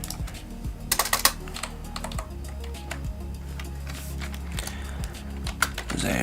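Steady, rapid typing on a computer keyboard, close and clear, with irregular bursts of keystrokes and a few louder clacks over a low, constant background hum; no voices.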